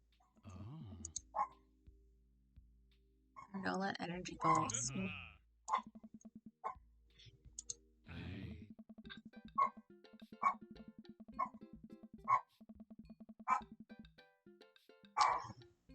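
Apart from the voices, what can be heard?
dogs barking in video game Dream Daddy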